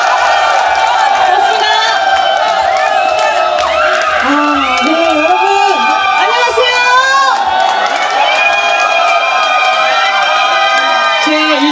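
A loud outdoor festival crowd at the Mungyeong Omija Festival cheers, shouts and whoops for a trot singer, with sustained high-pitched screaming and voices throughout, close and continuous.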